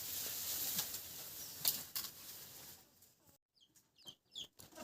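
Chickens cluck and chirp in short bursts after a stretch of broadband rustling noise, close by and moderately loud.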